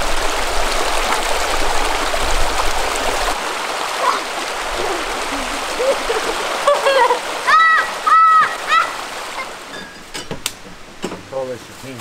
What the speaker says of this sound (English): Got a beautiful little creek just down there.